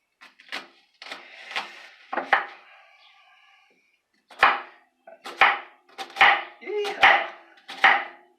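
A sharp kitchen knife chops through garlic and onions on a cutting board, crisp woody knocks in an uneven run of separate strokes with short pauses, close and fairly quiet.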